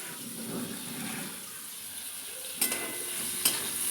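Slices of pointed gourd fry in oil as the water cooks off, giving a steady soft sizzle throughout with two brief sharp crackles near the end.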